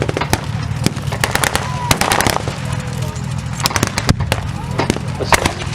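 Artillery and gunfire at a wartime battle reenactment, with an arena scene involving a Valentine tank and German anti-tank guns: sharp distant bangs and cracks arrive in irregular bursts over an outdoor crowd murmur and a steady engine rumble.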